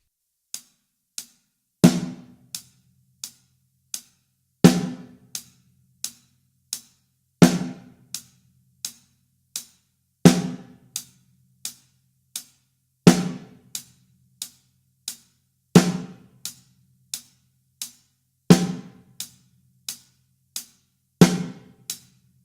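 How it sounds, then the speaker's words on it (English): A beginner drum beat plays alone: steady eighth-note hi-hat ticks with a louder, crisp snare crack landing on beats 2 and 4, repeating evenly and close up for the whole stretch. "So together with the hi-hat and the snare, that would sound like this."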